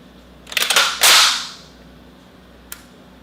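An AGS-17 Plamya 30mm automatic grenade launcher is worked by hand in a dry function test without firing: a loud, close metallic rattle and snap from the mechanism, then a single faint click a moment later.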